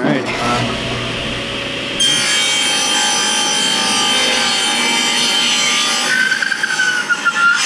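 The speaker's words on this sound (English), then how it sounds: "table saw here and we'll cut this out" Table saw cutting a wooden block for a long box turkey call: a steady, loud whining blade with a grinding rasp through the wood, continuous for several seconds and ending in a few uneven bursts.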